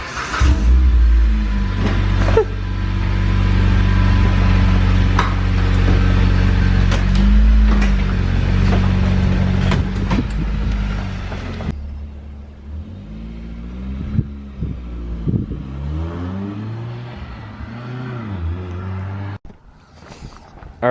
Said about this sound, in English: I like making fun of Jay about how crappy your car sounds.